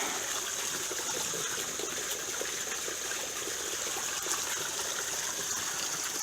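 Water cascading down a pond waterfall fed by a sump pump, a steady close rushing and trickling wash that holds constant with no pauses.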